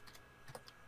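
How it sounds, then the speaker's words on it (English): Faint, quick clicks of typing on a computer keyboard, a few keystrokes in a loose cluster, quiet and distant, heard alone. "Are you typing it? No one can see you type."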